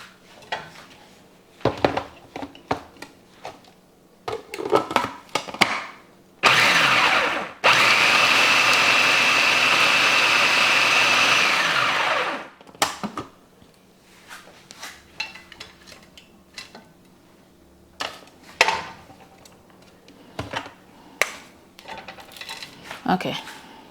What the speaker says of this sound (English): I can still go a little more, like blend it a little more